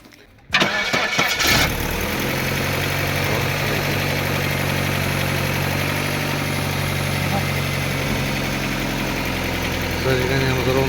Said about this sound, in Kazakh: Кәні оталдырып көрші бұл.